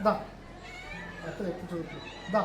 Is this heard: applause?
no